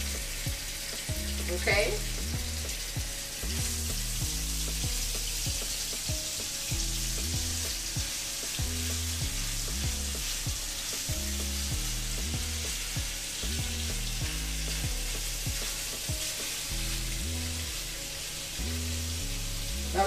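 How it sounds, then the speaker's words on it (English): Seasoned ground beef sizzles and fries steadily in a pan, a continuous close crackling hiss with stirring scrapes throughout and a brief word spoken over it. "We're going to drop our meat in."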